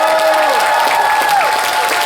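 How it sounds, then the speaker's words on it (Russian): Audience applause at a children's winter holiday show, a steady dense clapping that fills the short clip, with a sustained tonal voice or music line sliding over it. "И, конечно же, за ваши аплодисменты!"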